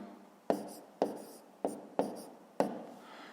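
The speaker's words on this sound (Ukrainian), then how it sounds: "Записуємо 151 ціла." Pen or chalk strokes writing numbers by hand during a fifth-grade math lesson, five distinct scratchy strokes at irregular intervals, close and clear with no talking.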